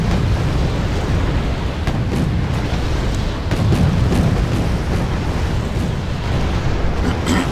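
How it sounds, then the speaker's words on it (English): Bombs dropped from aircraft explode in a modern tank warfare video game, a dense, loud stretch of rumbling blasts and sharp booms, with bursts landing every second or so and no talk. "I use aircraft to destroy this with bombs."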